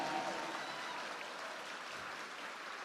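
A church congregation applauds during a sermon, a steady, fairly faint wash of many hands clapping with no pauses for about three seconds.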